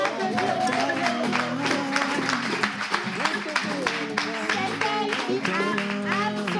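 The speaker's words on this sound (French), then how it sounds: "On va applaudir." Studio audience at a French television show clapping steadily throughout, a busy patter of applause mixed with talk and background music.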